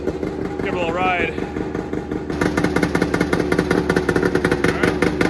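Vintage snowmobile engine idling and revving in snow, a rough mid-pitched clattering drone that grows busier and more rhythmic partway through, with brief talk over it.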